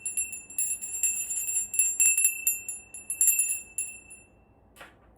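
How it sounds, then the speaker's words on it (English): A small handheld bell shaken in a quiet room, a bright tinkling jingle in rapid clustered bursts for about four seconds, soft and close, then a brief faint knock near the end. "Let me ring my bell."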